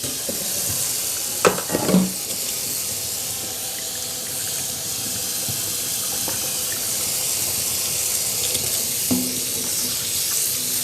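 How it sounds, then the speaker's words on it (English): Steady running water from a kitchen tap while hands are washed, a continuous close hiss with a few brief clatters and knocks early on. "Now I'm going to wash my hands because I don't want to cross-contaminate."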